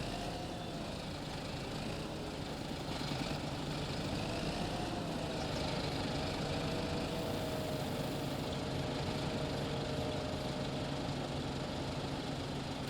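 A tractor engine idles steadily in a farming game, with a roller about to be hitched for rolling a field. It is a continuous, even hum with a faint knocking pulse, close and unchanging throughout.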